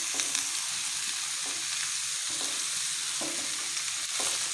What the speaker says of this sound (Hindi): अब हम टिंडों को फ्राई कर लेंगे।